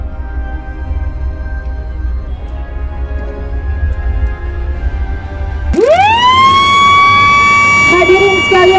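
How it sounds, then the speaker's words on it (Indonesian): A loud siren winds up abruptly and holds a steady, rising wail over murmuring crowd noise at an outdoor inauguration ceremony for the Jakarta–Cikampek elevated toll road. "melakukan penekanan tombol sirine"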